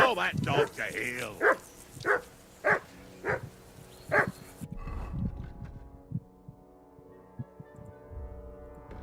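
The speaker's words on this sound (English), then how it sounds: "For Christ's sake, Henry, call off that damn dog." A dog in Kingdom Come: Deliverance 2 barks in a quick run of sharp, evenly spaced woofs, fairly close and loud, followed by quieter game ambience and scattered thumps.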